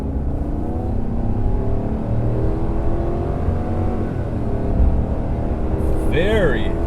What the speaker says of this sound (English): Good acceleration. This is a big, heavy vehicle, but plenty of acceleration.